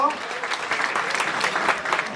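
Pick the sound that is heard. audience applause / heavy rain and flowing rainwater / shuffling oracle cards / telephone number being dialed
audience applause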